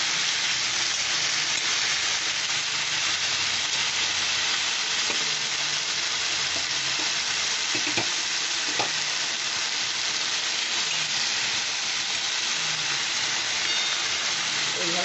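Potatoes sauté in oil with panch phoron, a steady dense sizzle lasting throughout, with a few faint utensil knocks and scrapes under the frying.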